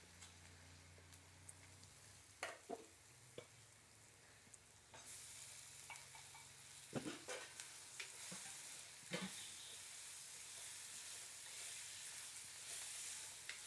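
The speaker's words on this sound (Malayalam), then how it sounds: "ഇനി നമുക്കിതിലേക്ക് കൊഞ്ചിട്ട് കൊടുക്കാം." Prawns tipped into a pan with wilted greens, sizzling and frying steadily while a spoon stirs and scrapes with irregular clinks and knocks, close and continuous.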